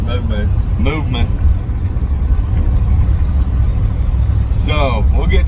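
A 1958 Chevrolet Biscayne, long left sitting, runs with a steady low engine rumble while driving, continuous and fairly loud beneath people talking in the car.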